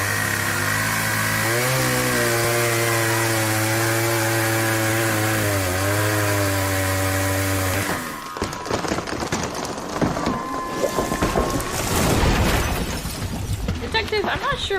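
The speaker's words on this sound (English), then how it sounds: "take the chainsaw, investigate the strange shack in the swamp. Also, that translates to chainsaw this tree and wreck the shack." A chainsaw revs in a video game, a steady droning whine that lifts and dips, then breaks into harsh crunching and splintering as the tree and a swamp shack are wrecked, loud and close throughout.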